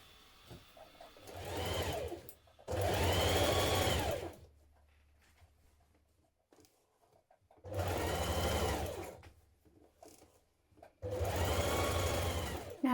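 Sewing machine stitching the side seams of an unlined winter coat in three close, steady whirring runs of a few seconds each, separated by quiet pauses.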